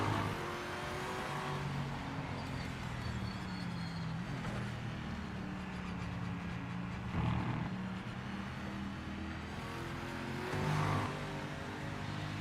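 Race car engines, a Ford Mustang and a Chevrolet Camaro, in the racing game Project Motor Racing: a steady loud engine drone that keeps going throughout, swelling briefly around two moments as revs rise, with no talk.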